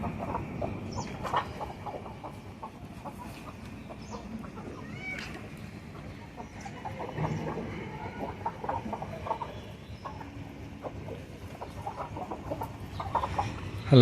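Several Medak breed chickens cluck and chatter nearby in scattered bursts over a steady background murmur, with no one speaking.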